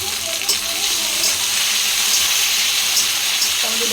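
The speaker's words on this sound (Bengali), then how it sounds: "এবারে টমেটো কুচিটা দিয়ে দেবো।" Chopped tomato hits a pan of frying onion with a loud, close, continuous sizzle and hiss, plus light stirring scrapes and no voices.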